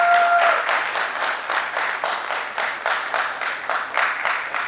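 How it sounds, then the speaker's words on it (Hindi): Enthusiastic audience applause for the director and cast of a stage play, a dense burst of many hands clapping steadily and loudly for several seconds, tapering slightly toward the end. "नाटक की निर्देशक श्रद्धा शालिनी मालवी जी के लिए जोरदार तालियां सारे कलाकारों के लिए"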